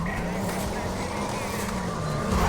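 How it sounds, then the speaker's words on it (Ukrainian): A muscle car's engine revs hard and accelerates in the racing game Need for Speed Carbon, a loud continuous engine drone with rising tone throughout, alone without talk. "Ого, як він розганяється тепер мій маслкар"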